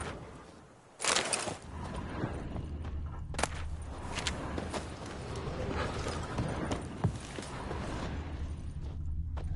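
Horse hooves clip-clop in The Witcher 3, a steady walking rhythm of moderately loud footfalls with a sharper thump near the start, set against ambient outdoor game sound and no talking.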